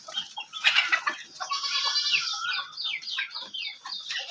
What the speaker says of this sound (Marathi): बघा गावरान कोंबड्या आमच्या इथे.